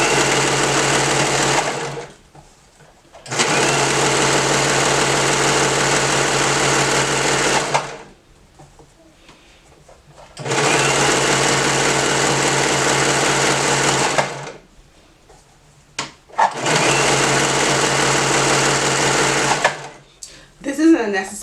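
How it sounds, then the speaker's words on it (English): A serger overlocks the edge of knit fabric at a quarter inch for a romper hem, running in three long, steady, loud bursts separated by short pauses. "I'm just going to serge at 1/4 inch"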